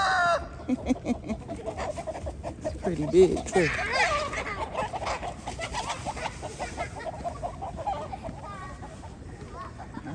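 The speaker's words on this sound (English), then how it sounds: "The rooster." A rooster crows nearby and chickens cluck around it beside a canal path in Bangkok, while a person talks briefly over the outdoor ambience.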